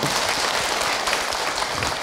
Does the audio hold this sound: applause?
yes